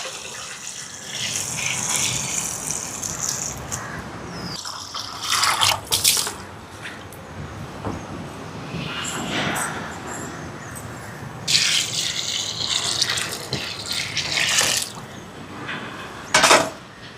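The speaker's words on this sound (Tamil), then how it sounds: "இப்போ பருப்புக்கு தண்ணி சேர்ப்போம்." Water poured into washed lentils (dal) in a cooking pot, a steady close splashing stream with several louder surges, no talk over it.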